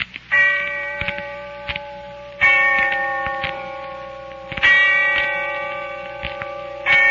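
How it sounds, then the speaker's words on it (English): A distant bell tolls slowly and steadily, each ringing stroke fading out before the next, three strikes spaced evenly with soft ticking in between. "when I heard the bell tolling somewhere in the distance, I remembered."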